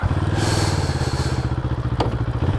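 A 2025 Moto Morini Calibro motorcycle engine runs close by with a steady, throbbing low pulse, loud and continuous, with a brief sharp clack partway through.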